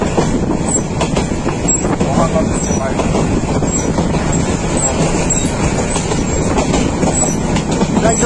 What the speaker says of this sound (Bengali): মাত্র ট্রেন ছাড়লো, নেক্সট স্টেশন ভাটিয়ারি।